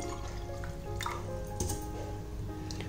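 Water is poured into a half-filled glass while making a sweet syrup sherbet drink, a short liquid trickle with small drips and splashes, fairly faint and without speech.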